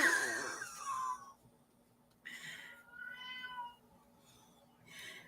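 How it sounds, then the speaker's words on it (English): A gray domestic cat meows several times indoors, a louder drawn-out cry first, then softer, fainter meows spaced out over quiet room tone. "If you guys can hear that cat"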